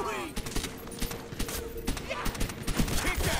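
Rapid bursts of gunfire from Call of Duty: World at War Zombies crackle in quick succession, with someone talking over the shooting throughout.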